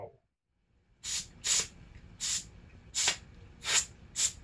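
Compressed air from an air compressor blasting into a broken, dust-clogged sander in short hissing bursts, six quick spurts spaced about half a second apart, close and sharp, following a brief moment of quiet.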